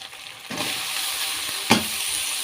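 Bottle gourd dropped into frying mustard, ginger-garlic and green chilli paste, setting off a loud steady sizzle with a sharp clatter partway through.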